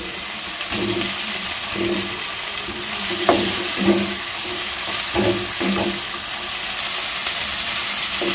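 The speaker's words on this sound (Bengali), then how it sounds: "এবার আমি এর মধ্যে দিয়ে দেবো ভেজে রাখা আলুর টুকরোগুলো" Fried potato pieces going into a sizzling, well-cooked spice masala for a pointed gourd and prawn dish: a continuous hiss of frying with repeated clacking stirs and scrapes of a spatula in the pan, no talking.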